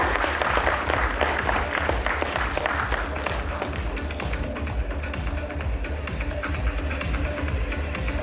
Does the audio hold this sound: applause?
yes